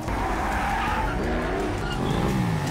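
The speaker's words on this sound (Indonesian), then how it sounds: "Mobil-mobil mulai mengejarnya." Cars chasing through a harbour area in a drama, tires skidding and squealing with engines revving, a continuous loud rush of screeching rubber and motor noise.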